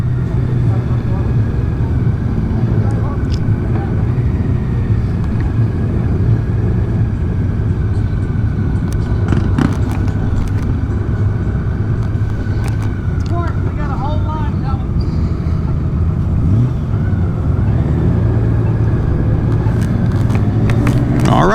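Honda Gold Wing 50th Anniversary touring motorcycle, 2025 model, ridden on the road in a staggered group ride: a steady, loud engine and wind roar running continuously, with a voice talking over it.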